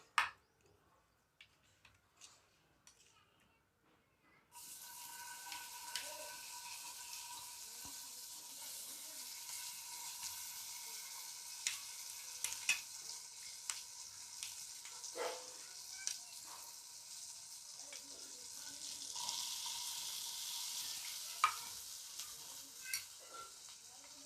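Quiet start with a few clinks, then a steady sizzle of paste and potatoes frying in a pan with occasional stirring scrapes and clatters.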